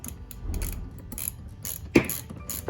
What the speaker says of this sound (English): So we're going to take our ratchet and our 7/16 socket. We're going to remove the stop bolt.